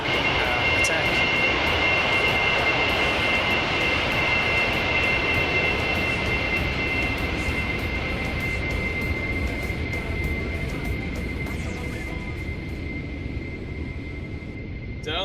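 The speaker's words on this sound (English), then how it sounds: "The A-10 is the premier cluster support aircraft, supporting our ground forces engaging with the enemy." A Roblox A-10 Thunderbolt II jet roars steadily overhead at an airshow, a constant loud engine drone with a high whine holding throughout, with faint announcer talk underneath.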